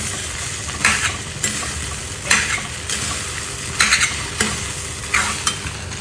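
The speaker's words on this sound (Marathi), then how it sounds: "आता हे मिक्स करून घेऊया व्यवस्थित" Egg fried rice being stirred in a hot pan, with repeated scraping strokes of a spoon against the pan over a steady sizzle of frying, close up and without talk.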